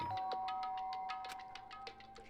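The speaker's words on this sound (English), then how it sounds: "and pressed the doorbell" A doorbell in the Danganronpa: Trigger Happy Havoc video game gives a short electronic chime, a series of bright, evenly spaced tones ringing out clearly with no voices over it.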